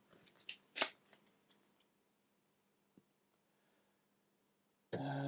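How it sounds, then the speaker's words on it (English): A small hand of cards is shuffled during a tabletop game of Lost Ruins of Arnak, giving a quick burst of soft papery riffles and taps, then near silence before a louder rustle at the end. "Shuffling 3 cards is not easy."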